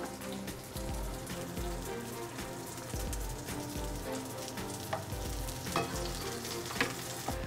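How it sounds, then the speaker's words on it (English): Food sizzles and crackles in duck fat in a hot sauté pan, a dense continuous frying hiss with stirring scrapes, close up and with no talking. "We're literally sauteing them in that duck fat just to add a little bit of extra flavor."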